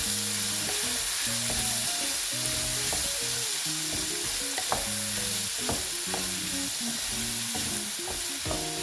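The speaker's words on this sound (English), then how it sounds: "I will then add my onions to it and also give it a stir." Onions sizzle steadily in a hot pan for fried rice with eggs and vegetables, with a continuous frying hiss and repeated scraping stirs throughout, close and alone with no talk.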